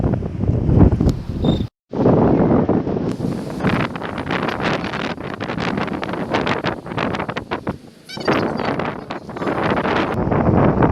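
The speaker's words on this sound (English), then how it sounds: "today is a very breezy and cool day" A cool, breezy day outdoors, with strong gusts buffeting the microphone in loud, rough waves and brief lulls between them.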